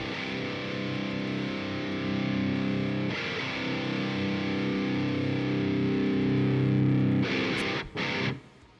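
Distorted electric guitar through a Nembrini Audio Cali Axis amp simulator plugin, playing sustained heavy chords with a thick saturated tone, loud and close, ending with a couple of short chopped stabs.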